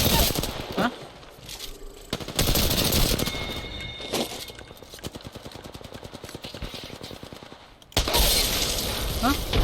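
Rapid automatic gunfire from an Apex Legends firefight fills the clip in dense, loud bursts and sustained rattling streams, with sharp impact cracks, while a voice talks over the shooting.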